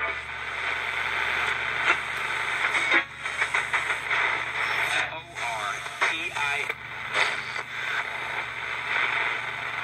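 A Tecsun R218 AM/FM-TV radio plays a station loud and clear with hiss underneath, carrying voices in the broadcast that shift and briefly break up.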